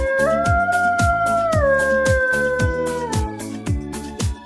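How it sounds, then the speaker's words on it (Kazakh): A wolf gives one long, sustained howl that slides gradually downward in pitch, loud and close, over a steady rhythmic music backing. "Қасқыр."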